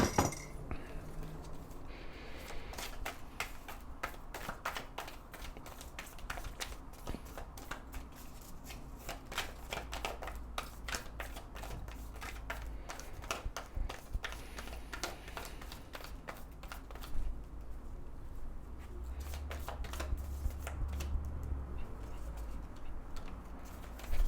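Tarot cards are shuffled close up for about twenty-four seconds, a continuous run of crisp flutters and riffles with a few soft clinks and a low hum underneath.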